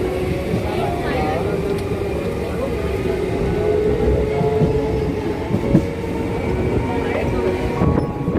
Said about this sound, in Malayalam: ട്രെയിനുകളാണ് അങ്ങനെയെങ്കിലും കടന്നുകൊണ്ട് പോയിക്കൊണ്ടിരിക്കുന്നത്